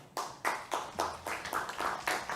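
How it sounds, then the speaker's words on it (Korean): A small group claps at a prime minister nominee's confirmation hearing, about eight distinct, evenly spaced claps in a steady rhythm, close and clear in a quiet room. "이거 이 청문회에서 박수 친 건 처음인 것 같은데요"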